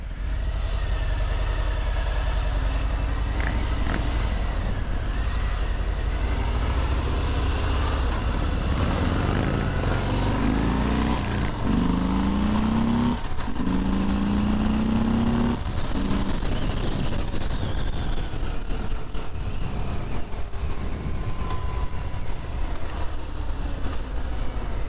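A Harley-Davidson Fat Bob motorcycle accelerates hard, its loud engine roar rising in pitch through gears over wind rush, sustained and close for the whole stretch without talk.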